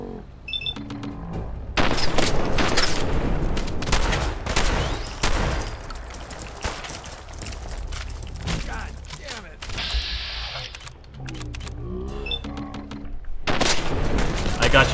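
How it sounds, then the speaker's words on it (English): Repeated shotgun blasts and other gunfire in the video game Fallout 4 come as loud, dense bursts in rapid succession, with brief quieter gaps and a few short game sounds in between. "Try my new shotgun."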